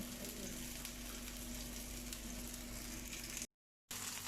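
Raw minced meat patties sizzle steadily on a flat griddle, a dense continuous hiss heard close and alone before a brief cut to silence.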